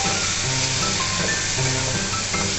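Food sizzling and frying in a pan in a home kitchen, a steady loud crackle with occasional stirring scrapes, no talking.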